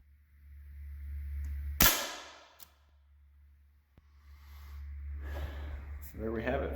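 A single sharp crack from a Sig Sauer ASP MCX Virtus PCP air rifle stands out clearly over a low background hum, with a person speaking quietly around the shot.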